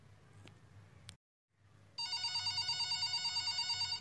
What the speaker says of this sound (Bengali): 4টার সময় ফোনটা বেশ জোরে বেজে উঠল।